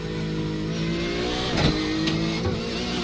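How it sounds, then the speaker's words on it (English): Porsche GTE race car in iRacing at Interlagos, its loud gearbox whine and engine revving steadily on board, with a brief shift blip partway through and no talk. "The gearbox always sounds really, really loud in the Porsche."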